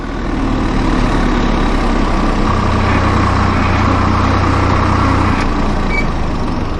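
A tractor engine drones steadily and loudly after a shift into fourth gear on a village road, a constant heavy low rumble with a slight shift in tone midway and no voices.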